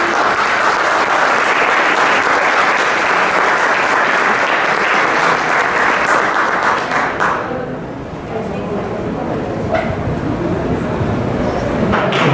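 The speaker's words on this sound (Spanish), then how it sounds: "Un fuerte aplauso, por favor." A large audience at a recognition ceremony applauds loudly in a dense, continuous roar of clapping. The applause dies away after about seven seconds into a quieter room.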